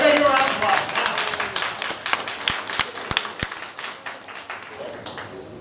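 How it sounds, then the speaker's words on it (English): A crowd claps for a costume-contest winner at a Halloween party at an Illinois veterans home, starting loud and thinning into scattered claps, with voices talking over it. "Everybody give a round of applause."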